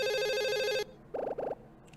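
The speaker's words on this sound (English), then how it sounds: "Phone call?" An electronic phone ring in a mystery adventure video game: one long sustained tone, then two short matching bursts, clear and fairly quiet with no talking.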